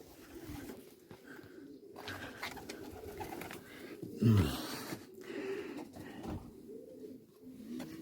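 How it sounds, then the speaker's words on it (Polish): A single pigeon coo rises briefly amid quiet outdoor background noise, with faint rustling before and after. "Jest pierwszy odbity gołąbek."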